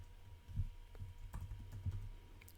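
Computer keyboard keys click at an uneven pace while someone types code, each keystroke soft and close, with no voices.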